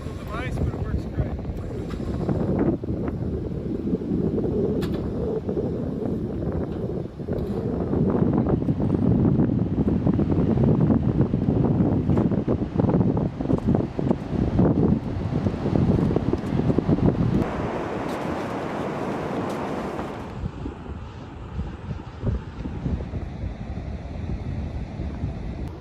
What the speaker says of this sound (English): Windy night here